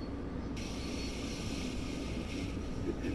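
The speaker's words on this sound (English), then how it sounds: "That was the train that was in our way that's leaving." A train departs in Train Sim World 4 near the approach to New York Penn, a steady low rumble with a broad hiss that rises and holds for about three seconds.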